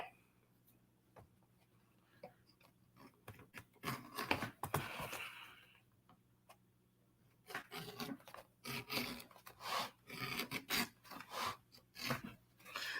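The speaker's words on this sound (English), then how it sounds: "you should be able to hear that cutting into that leather like that" A leather edge is rounded off with a burnishing tool, giving close, quiet rasping scrapes, one short burst and then a faster run of repeated strokes, with no speech.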